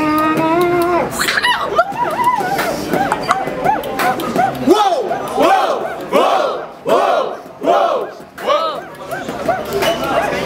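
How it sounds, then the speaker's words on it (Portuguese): A crowd at a Brazilian rap battle semifinal in Barueri cheers and yells loudly and close, with rhythmic chanting bursts rising and falling over a shouting announcer. "Barulho pras rimas do Borges!"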